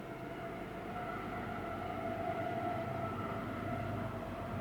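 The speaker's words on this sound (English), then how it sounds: "the train goes probably like 200 feet from where all the RV spots are. It's very loud." A train rolls past a state park RV campground at Salton Sea, about 200 feet from the campsites, making a loud, steady rumble with sustained tonal horn-like notes for the whole stretch.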